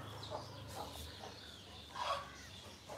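A chicken clucks faintly in a few soft, scattered calls against a low background murmur, with one slightly louder cluck near the middle.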